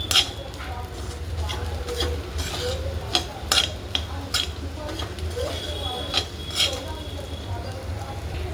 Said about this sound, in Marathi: खोबरं पण थोडंसंच भाजायचं आहे आता. एकदम बारीक गॅसवर भाजलेला आहे.